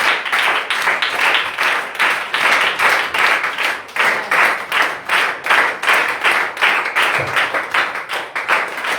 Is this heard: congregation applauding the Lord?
yes